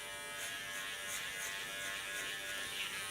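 A hair clipper buzzes steadily and close while shaving the nape of the neck, with a continuous electric hum throughout.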